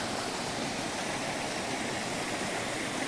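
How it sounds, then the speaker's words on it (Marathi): A village stream in Konkan, Devgad, flows in winter, giving a constant, even rush of running water with no voices. "त्या साईडला सुद्धा पाणी वाहता"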